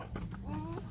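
A chicken clucks nearby, a short run of throaty, rising clucks lasting about a second.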